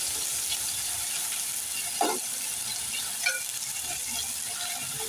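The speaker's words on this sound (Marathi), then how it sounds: "पहा आपला कांदा तर शिजतोय" Finely chopped onions frying in a covered pan for a Maharashtrian mixed vegetable bhaji: a steady, soft, even sizzle running throughout, with a couple of faint clinks and stirring touches.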